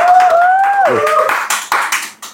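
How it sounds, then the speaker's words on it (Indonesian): Audience at a university thesis seminar giving a short burst of scattered clapping, with a few separate claps trailing off after a voice finishes speaking. "Tepuk tangan dong guys."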